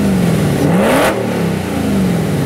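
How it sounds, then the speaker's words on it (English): A Spyker C8 Spyder sports car engine revving loud and close, its exhaust note climbing sharply in pitch, peaking with a roar, then settling back down as it idles. "And then, of course, there's the all-important exhaust note."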